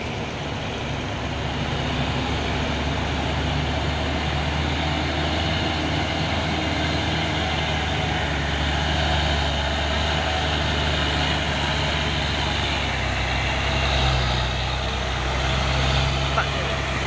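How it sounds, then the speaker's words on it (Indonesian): Heavy trucks, including Hino tankers in a convoy, grinding up an uphill road, a continuous loud low engine rumble with faint voices underneath. "Ada lagi truk coklat di belakang ini ya."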